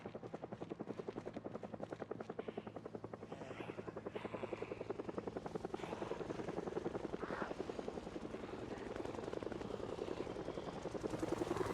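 A video-game helicopter's rotor chops in a fast, even thrum that holds steady for the whole stretch, loud and close. The steady drone swells slightly toward the end and no voices are heard.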